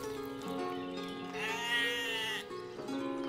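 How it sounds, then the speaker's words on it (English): Sheep bleat in the village-building game Ostriv, a wavering, fairly loud call sounding alone for about a second over a steady background of game ambience and music tones. "I just heard the sheep bleating"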